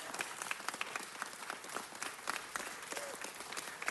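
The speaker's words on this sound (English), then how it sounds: "Can we give her a round of applause?" An audience at a city council meeting applauds an honoree, with sustained dense clapping from a room full of people, fairly distant and even in level, and faint murmurs underneath.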